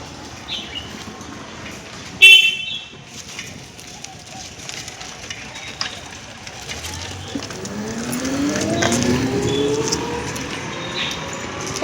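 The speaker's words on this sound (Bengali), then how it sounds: "গাড়ি আসছে একটা" A car comes along a riverside road by the Ganga near a Durga Puja pandal, its engine rising steadily and growing nearer over the last few seconds after a sharp knock early on.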